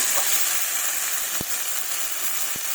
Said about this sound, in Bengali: আমি ভালোভাবে কষিয়ে নিচ্ছি।